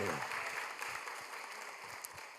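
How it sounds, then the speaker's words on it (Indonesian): Church congregation clapping for God during a sermon, a dense steady wash of applause that stays fairly even for the whole stretch, with faint voices mixed in. "Tepuk tangannya boleh paling meriah buat Tuhan"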